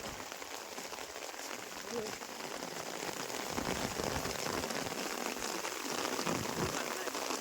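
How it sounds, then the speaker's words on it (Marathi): Heavy monsoon rain pours down heavily and steadily onto surfaces nearby in the Konkan countryside during rice planting, a dense continuous patter. "पाऊस ना कालपासून कमीच होत नाही"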